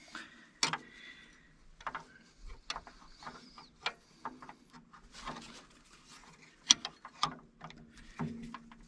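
A spanner wrench clanks and ratchets against the coil spring collar of a UTV suspension, irregular close metallic clicks and taps scattered across a quiet background.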